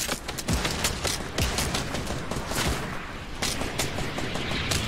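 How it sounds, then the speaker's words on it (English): Dense gunfire in a video game firefight featuring an AK rifle, rapid overlapping bursts and cracks with deep booming hits, loud and continuous from start to finish. "everyone is shooting at us"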